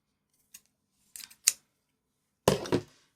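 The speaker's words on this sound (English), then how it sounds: "I'm just going to grab my regular scissors." Ordinary scissors cut paper while binding a junk journal, a few short quiet snips followed by one longer, louder crunching cut, all close and alone.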